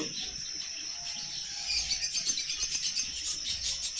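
Rainbow budgerigars in a breeding cage chirp and twitter softly in quick bursts, fairly distant and faint against a steady high insect-like hiss.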